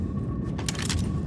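Ammo pickup in Aliens Fireteam Elite, a brief metallic jangling clatter of a few quick clicks over steady low game rumble.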